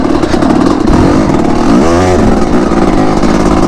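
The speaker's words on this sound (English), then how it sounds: "I'll always ride a dirt bike." A dirt bike engine revs loud and close, a steady rough drone that dips briefly and climbs back up to a high pitch, with no voices over it.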